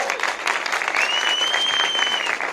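An audience in Bogotá gives loud, continuous applause for drag performers at a show, with a dense clatter of clapping and a faint high whistle running through it.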